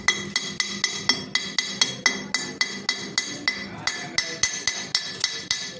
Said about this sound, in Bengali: আমি কার্বনটা একটু ছুটিয়ে দিই।